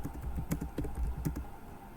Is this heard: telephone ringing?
no